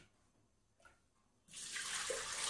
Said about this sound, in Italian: Come prima cosa andiamo a mettere nel boccale l'acqua